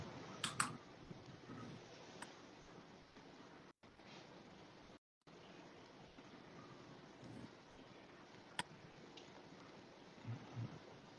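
Typing on a computer keyboard, faint scattered key clicks at irregular intervals against a quiet background with light wind-like noise.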